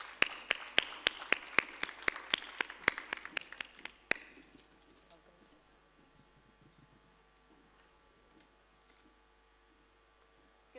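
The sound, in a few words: applause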